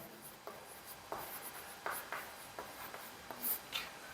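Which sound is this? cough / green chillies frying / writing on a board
writing on a board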